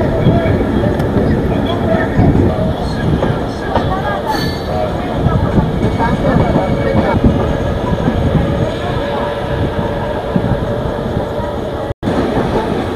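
Steady, loud rail rumble and clatter heard from inside the Janashtabdi Express as it runs on time toward Ratnagiri station, continuous throughout with one brief dropout near the end.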